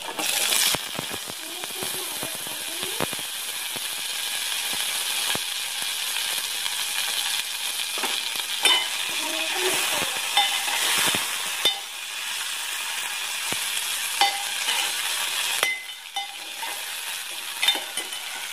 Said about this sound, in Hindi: हमने अपने आलू को भी इसमें मिक्स कर लिया है